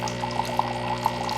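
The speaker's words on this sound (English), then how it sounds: "really hot water is going to come out" Very hot water streaming from a Cuisinart Coffee Center Barista Bar into a cup, a steady soft trickle with a few small splashy drips, fairly faint and close, with no voices.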